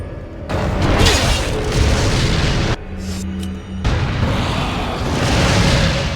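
Grenade blast in the 2005 video game Resident Evil 4: a loud, close, roaring boom that fills the clip, dips briefly near the middle, then surges again into a sustained rumbling explosion.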